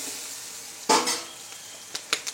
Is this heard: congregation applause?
no